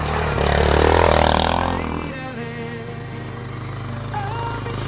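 A Honda Dominator enduro motorcycle riding off-road in Piedmont, its engine droning loudly and revving up before settling into a steadier mid-distance rumble with rattling noise.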